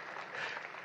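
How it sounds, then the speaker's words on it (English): Audience at a Palm Sunday Passion Play at Holy Family school gives a brief, soft burst of clapping, a faint continuous patter heard from a distance. "Now clap for that also"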